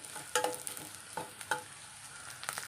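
Spice powders stirred into browned onions with green chillies frying in a pan, a steady soft sizzle broken by a few scraping stirs of a spoon, close and moderately quiet, no talking.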